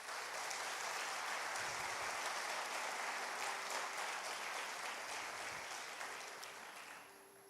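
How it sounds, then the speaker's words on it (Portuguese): A church congregation applauds a couple in a sustained, even round of clapping that fades gradually toward the end, heard fairly faintly with no talk over it. "Dê um aplauso para eles."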